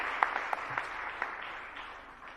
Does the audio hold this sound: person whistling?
no